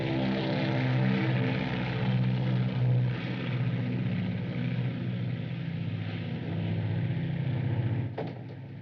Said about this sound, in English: It's only the mail plane for London.